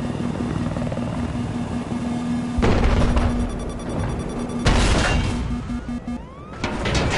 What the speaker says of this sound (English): It's the same helicopter.